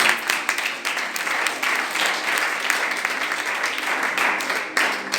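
A church congregation breaks into dense, continuous applause that lasts the whole stretch, with voices faintly mixed in underneath.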